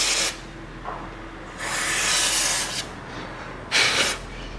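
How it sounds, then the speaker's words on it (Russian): Silicone grease being worked onto the threads of a Ford Focus II fuel pump, heard as close, soft rubbing and hissing strokes in three separate bursts with quiet pauses between them, with no talking. "Смажу резьбу силиконовой смазкой,"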